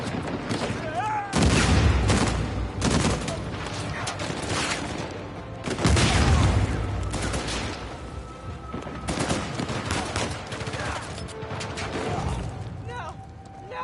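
Gunfire in the video game Uncharted, bursts of loud rapid shots and booms coming in waves with quieter gaps, while people talk over the game sounds.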